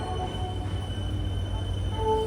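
The Poorna Express, hauled by a WDP 4D diesel locomotive, rumbles steadily just after leaving Pune Junction, heard from inside a sleeper coach as a low continuous drone with faint tonal whines.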